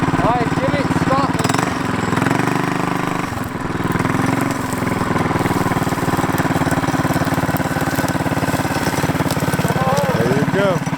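An off-road go kart engine runs steadily throughout, a loud, rough mid-pitched drone with a constant mechanical buzz. Voices talk over it at a few points.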